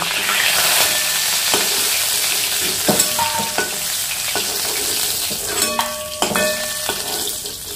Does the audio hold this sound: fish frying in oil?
yes